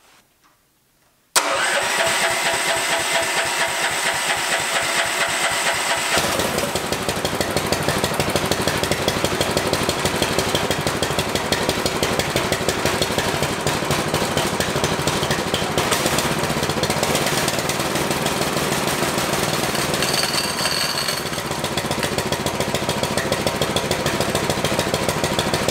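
Homemade F1-style car engine starting after a brief silence, then running steadily and loudly while driving a chain drive on a bench setup, a dense, continuous mechanical roar with chain clatter and no speech.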